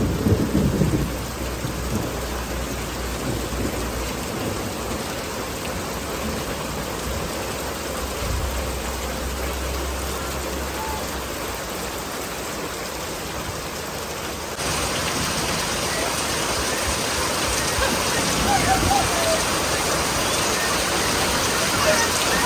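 Heavy, steady downpour with rumbling thunder, rain growing louder partway through; a continuous wash of noise.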